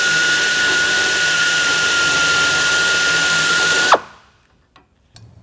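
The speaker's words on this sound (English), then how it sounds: "Apply firm pressure and then dress the tip." A YNR-8F pneumatic tip dresser dresses a resistance welding electrode tip with a loud, steady whirring drone for about four seconds, then spins down and stops, leaving faint clicks.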